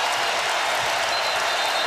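Basketball arena crowd in a Minnesota versus Wisconsin game cheering and applauding, a dense steady wash of clapping and voices filling the space without letting up.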